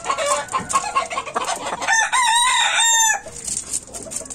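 Gamecock rooster at close range, clucking at first, then a loud, sustained crow in the middle, followed by more clucking.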